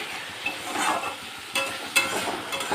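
Spice paste with Kashmiri chilli powder sautés in oil with a steady soft sizzle, and a few louder scraping stirs come through close by, with no talking.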